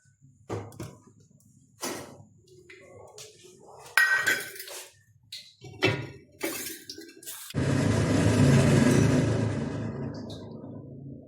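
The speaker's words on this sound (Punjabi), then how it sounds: "ਇੱਧਰ ਆਪਾਂ ਤੇਲ ਪਾਵਾਂਗੇ ਕੜਾਈ ਦੇ ਵਿੱਚ" Oil is poured into a kadai (wok) to make homemade hair oil. A few metallic clinks and knocks of utensils come first, then a steady, rushing pour that swells and slowly fades.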